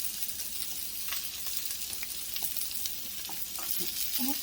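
Salmon fries in a pan with a soft, steady sizzle and faint crackles, fairly quiet and continuous with a few small pops and a light stir near the end.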